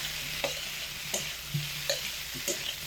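Potatoes sauté with tomato sauce in a pan under a low sizzle, while a spatula stirs and scrapes in sharp strokes about every half second, close and clear with no voices.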